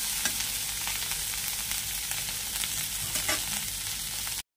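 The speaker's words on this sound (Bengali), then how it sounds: "দেখুন চিংড়ি মাছের বেশ কড়া করে ভেজে নেব" Prawns fry crisp in a pan with a loud, dense, continuous sizzle and faint crackling pops. The sound is close and steady, with no talking, and it cuts off abruptly.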